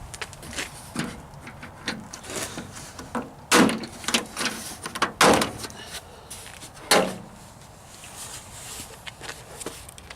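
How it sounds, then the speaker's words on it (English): Door panel being pried off a Jeep Wrangler YJ half door, with plastic Christmas tree clips popping loose in several sharp snaps and knocks amid quieter handling clatter and shuffling. "you've got some Christmas tree clips up underneath here that pull out whenever you pull out on the door panel"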